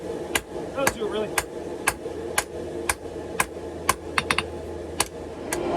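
Hammer blows shape a ball bearing Damascus karambit blade, with a steady run of about a dozen sharp, ringing metallic strikes evenly spaced and close by, plus a quick cluster near the end.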